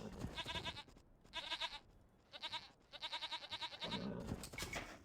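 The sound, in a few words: sheep bleating in a video game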